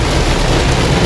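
Heavy rain pours steadily during a storm, a dense, loud, continuous roar of rainfall with no break and no voices.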